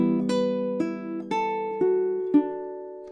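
Baritone ukulele playing measures 9 and 10 of Morrison's Jig, an Irish jig, six evenly spaced plucked notes ringing into each other, close and soft, with no voices.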